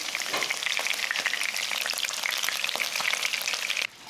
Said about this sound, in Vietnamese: Nhưng mình có thể làm thêm một bước nữa là chiên cho đến khi bên ngoài vàng giòn